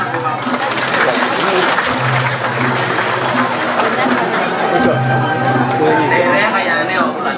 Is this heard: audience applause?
yes